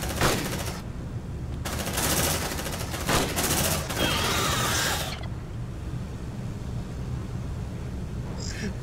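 Rapid automatic gunfire from the video game Aliens: Dark Descent, loud sustained bursts with brief gaps over the first five seconds, then fading to a quieter background hum.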